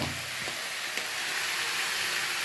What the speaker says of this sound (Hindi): अदरक लहसुन प्याज सब चिकन के साथ भून जाएगा, सब पक जाएगा इसी साथ साथ में।